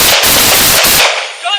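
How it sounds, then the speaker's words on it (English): Gunfire in a Grand Theft Auto police body cam scene set in Los Angeles: a loud, dense burst of close, rapid shots with brief gaps, cutting off abruptly into a fading echo. "Shots fired! Shots fired!"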